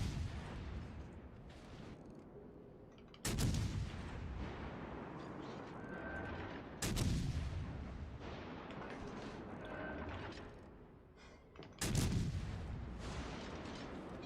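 Warship main guns firing in the naval game World of Warships Legends: three heavy, booming salvos spaced several seconds apart, each with a sharp onset and a rumbling tail, over continuous engine and battle noise with a voice talking.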